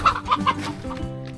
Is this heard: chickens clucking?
yes